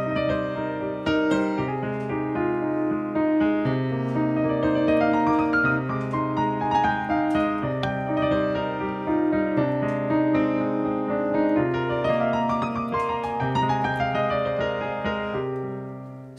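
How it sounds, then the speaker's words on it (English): A piano plays a melody in the C Aeolian mode, sustained notes ringing over steady bass chords at an even, moderate loudness for the whole stretch, with no voices. "the next mode I'm going to teach you is what's called the Aeolian mode"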